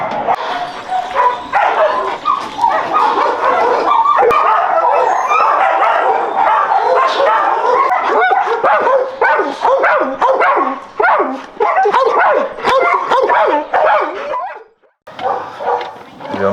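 Several dogs at an animal shelter in Hungary bark, yip and whimper almost continuously, loud and close, in an overlapping chorus that breaks off briefly near the end.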